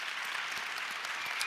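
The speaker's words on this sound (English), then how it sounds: "a round of applause, please, for everyone that came out here today" An audience claps for those attending a startup demo day fireside chat, a dense, even wash of applause lasting throughout at moderate distance.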